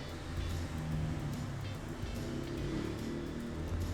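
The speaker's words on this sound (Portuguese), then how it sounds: "passa muito carro, muita moto, ficam buzinando" Street traffic with cars and motorbikes passing outside, heard from indoors as a steady, faint low rumble throughout with no distinct horn blasts standing out.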